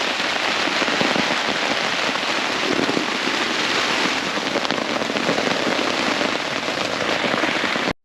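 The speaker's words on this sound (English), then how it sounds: "I'm sure the noise is absolutely terrible because it's raining" Steady rain and wind beat on an open Caterham 7 sports car on a Scottish coastal touring road, a loud, dense, continuous hiss with scattered patters throughout.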